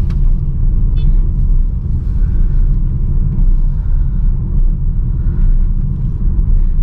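A manual car's engine rumbles low and steady at close range as the car slowly turns around, with faint background noise and no talking.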